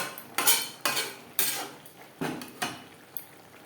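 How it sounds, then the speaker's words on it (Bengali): A metal spoon scrapes and clanks against a pan while lentil fritters are mixed into bottle gourd greens, six or seven distinct knocks spaced unevenly, close and clear with no talk. "শাকের সাথে বড়া বেশ ভালো করে মিক্সড করে দেব"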